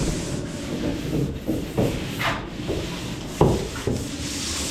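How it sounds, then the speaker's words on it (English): Hand sanding joint compound ridges on a drywall wall: repeated rough scraping and rubbing strokes in an uneven rhythm, close and moderately loud, with no talking. "Now we got Caleb and Bryce working on sanding, just cleaning up those ridges."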